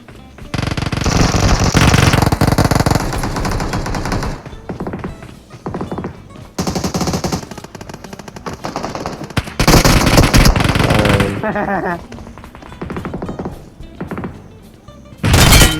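Rapid bursts of automatic gunfire in the mobile battle royale game PUBG Mobile, loud and close, come in several rattling volleys with short pauses between them.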